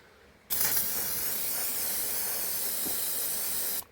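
A high-pressure spray nozzle blasts water across a motorcycle being cleaned, a loud steady hiss that starts abruptly, holds for about three seconds and cuts off sharply, with no talking.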